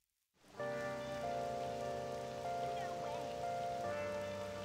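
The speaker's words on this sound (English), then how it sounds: "I feel so down when it's raining." Rain falls in the video game Persona 5, a soft steady hiss that begins after a brief silence, with sustained musical tones from the game's soundtrack playing over it.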